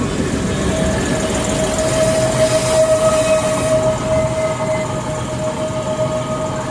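A train rumbles and rolls out from the platform at Selçuk station, a steady mechanical drone with a sustained tonal whine over the rails.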